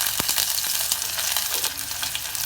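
Onion and garlic frying in oil as the base for a spicy tomato soup, a steady close sizzle with a few small pops and light stirring scrapes, no voices.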